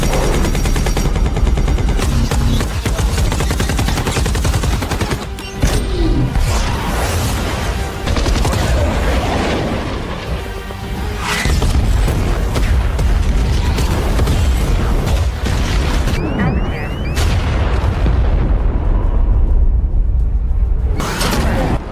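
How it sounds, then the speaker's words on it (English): Action-film battle where a Hornet fighter aircraft drops ordnance danger close: dense, continuous gunfire and heavy booms with rumbling explosions and mechanical clatter, loud throughout for over twenty seconds. "The Hornet drops its ammunition close to Kinney to kill the attackers and flies away"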